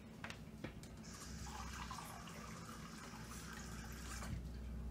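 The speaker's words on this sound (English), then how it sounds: "So I'm going to add a little bit of water." Water pours steadily into a pot of northern beans and ham soup, a faint continuous splashing trickle lasting several seconds.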